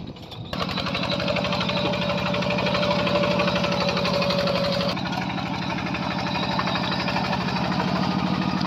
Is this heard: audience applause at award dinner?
no